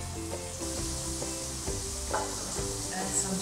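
Butter sizzling and frying in a heavy-based large pan on a stove, a steady close hiss with a few soft knocks and scrapes of a utensil, no voices.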